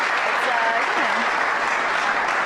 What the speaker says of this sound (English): I'm going to clap myself.